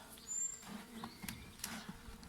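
Honey bees hum faintly at a hive while a new swarm is being fed. The quiet buzzing is steady, with one brief higher whine from a bee passing close.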